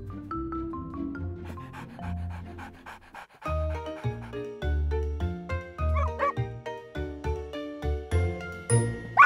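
A dog in a children's cartoon pants and yips with jingling tinkles and several short barks throughout, close and fairly loud, with no talking.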